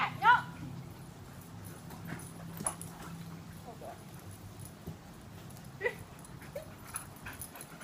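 A small dog is active outdoors during a game of fetch, with short whimpering and yelping sounds and hoof-like clattering over faint background noise, while people talk at a distance.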